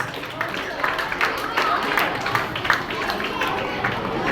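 Schoolchildren in a crowded hall at a school science expo prize-giving applaud the winners, a dense, continuous patter of clapping and chatter filling the whole stretch at steady loudness.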